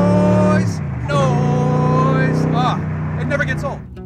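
Superformance Daytona Coupe street-legal race car engine revs loudly and close, rising and falling in several strong pulls with a rough, harmonic-rich roar, occasionally dropping between bursts.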